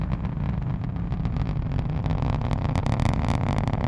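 A SpaceX Falcon 9 rocket's nine Merlin 1D engines roar at liftoff from Florida's Space Coast, a loud, dense, continuous rumble with crackling bursts and no voices over it.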